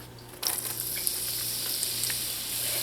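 Chopped onions sizzle steadily in hot coconut oil in a pot, a continuous bright frying hiss that starts abruptly and holds at an even, close level with no voices.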